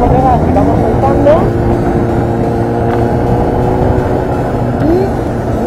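Motorcycle pulling away from a stop with the clutch released, then shifting into second gear, engine droning loud and steady with slight revving throughout, close by.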